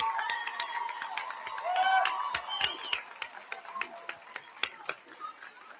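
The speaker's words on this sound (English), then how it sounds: "Can we hear a loud round of applause for these newly minted doctors?" A graduation celebration crowd claps and cheers for new doctors, sharp individual claps and whoops rising then thinning out, with scattered shouts and voices mixed in.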